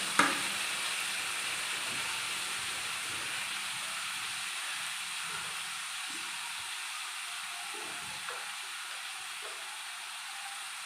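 Chopped papaya, onion and salt sizzle in a pan for a Kerala papaya stir-fry, a faint, steady frying hiss that follows a brief clatter at the start.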